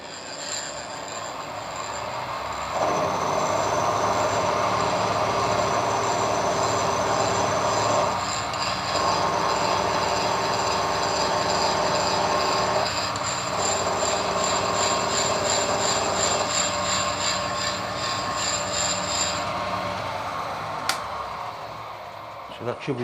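A milling machine cuts a slot in hard steel, giving a loud, steady mechanical whine with tonal cutter harmonics that shifts in pitch several times as the feed changes, running for about twenty seconds before winding down.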